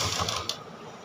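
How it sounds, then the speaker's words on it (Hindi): A sewing machine stitches a kurti collar in a short, fast mechanical whir with light clicking, close up and with no talking. "फिनिशिंग के साथ सिलाई लगा देनी है इस तरीके से"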